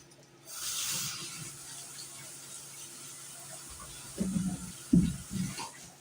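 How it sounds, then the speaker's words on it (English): Milk poured from a container for measuring, a soft hissing splash that starts early and trails off, followed by a few quiet knocks and clinks of kitchenware. "For this, I'm pouring my milk."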